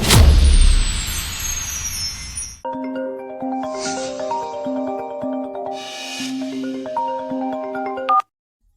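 A bright electronic ringtone melody plays in repeating phrases after a loud, noisy opening burst, then cuts off abruptly.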